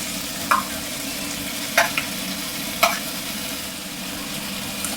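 Curry leaves, chopped garlic, green chili and ginger garlic paste fry in hot oil in a pan, giving a steady close sizzle with a few sharp scraping stirs of a spoon.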